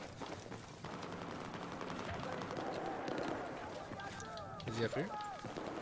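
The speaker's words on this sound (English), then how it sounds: "Yeah, he's getting shot at." Gunfire in the video game Battlefield 4 during an objective chase near a building: bursts of automatic fire and footsteps sound throughout, partly under a voice, with a louder burst near the end.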